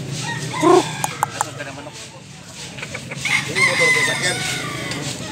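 A white rooster at a Consolacion, north Cebu fowl market gives a drawn-out crow, with other chickens clucking around it and someone speaking close by over the crowd noise.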